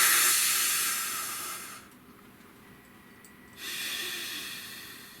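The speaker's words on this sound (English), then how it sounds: "Nice deep breath." One long, deep breath is taken close up: a slow airy inhale, a short pause, then a drawn-out hissing exhale.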